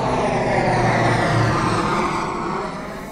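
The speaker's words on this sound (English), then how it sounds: "Mummy Pig lands the plane on the ground." A cartoon airplane comes in to land on the ground in a jungle, a steady loud engine roar with a low hum that holds and then eases off slightly toward the end, with no voices.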